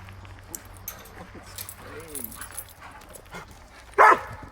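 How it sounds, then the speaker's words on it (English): An excited dog outdoors in Bergen, Norway, makes a mix of short yips and whimpers, finishing with one loud, close bark. Faint background sounds run underneath. "I'd say that's an excited dog."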